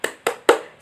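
Children doing a 'tepuk semangat' clap chant in a first-grade class: three sharp, evenly spaced hand claps ring out close and bright, with no voices.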